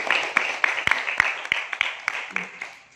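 A group at a school leadership training session claps, with sharp, spaced-out claps over a murmur of voices, fairly close and thinning toward the end.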